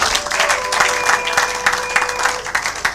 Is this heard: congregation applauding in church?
yes